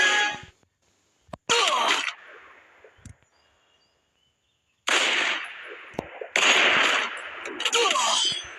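Bursts of automatic gunfire in a shooting video game, several loud rapid volleys separated by quiet gaps, with a few single sharp shots.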